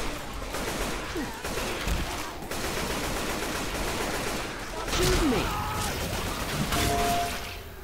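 Rapid gunfire from Left 4 Dead 2 rattles in sustained automatic bursts, loud and dense, with brief pauses and a few sharp impacts, while game voices and effects mix in underneath.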